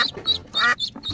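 Several quick, loud duck quacks come in a rapid series up close, in a child-oriented setting with toy farm animals loaded onto a truck.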